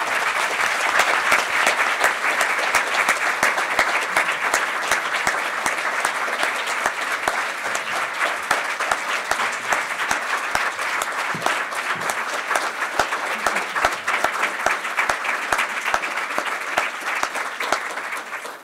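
Sustained audience applause for a panel at a conference on ending sexual violence in conflict at The Carter Center, a dense, steady wash of clapping that fills the whole stretch without talk.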